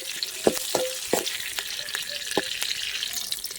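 Green chillies sizzle and fry steadily in hot oil in a pan during village-style country crab gravy cooking, with a few sharp stirring clinks near the start over a continuous crackle.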